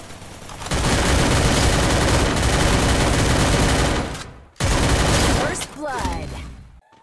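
Rapid UMP submachine-gun bursts in the Free Fire battle game, loud and dense for several seconds, a brief cutout, then more firing with sharp game effect sounds near the end.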